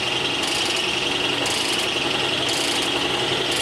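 A Sunnen CV-616-E Cylinder King vertical honing machine runs with its motor on, a constant loud mechanical whine and grinding hum with regular pulses about once a second as the stone strokes the bore.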